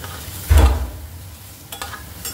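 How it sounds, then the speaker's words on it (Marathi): Onion and tomato fry in a pan for a masala base for cauliflower bhaji, with a sharp clatter of stirring followed by a low, soft sizzle. "आता आपला कांदा आणि टमाटर भाजत आहे मसाल्यासाठी।"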